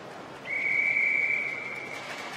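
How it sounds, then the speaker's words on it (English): A referee's whistle at the start of a para swimming race at the World Para Swimming Championships in London, one long sustained shrill blast over the low hum of an indoor pool crowd. "Whistle goes again."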